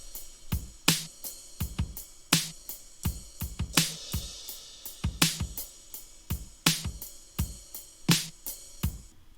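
Acoustic-style kick drum programmed into a chill beat in Ableton, thumping in a steady, loose groove alongside bright hi-hat and snare hits, with all of it playing together and no voice.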